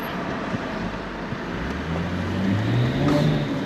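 A Ford Fiesta car drives past, its engine tone rising and swelling over a steady windy rumble as it draws nearer.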